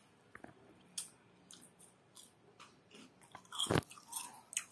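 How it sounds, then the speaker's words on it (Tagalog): Crunchy mushroom chips and a burger being chewed close to the microphone, a run of quiet irregular crunches and bites that grow louder and sharper toward the end, with no talking. "Tikman natin yung ating burger at ang ating mushroom chips."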